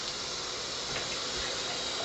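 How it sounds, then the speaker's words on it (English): Water pours steadily into a cooking pot of partly cooked chicken, a constant close gushing splash with no break and no talk. "I'm just going to add a little water"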